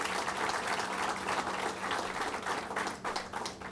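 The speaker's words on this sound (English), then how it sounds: "the whole team another round of applause." Audience applause at a governor's press event on completed Superstorm Sandy recovery work, a full and steady crowd clapping that stays strong and then thins slightly near the end.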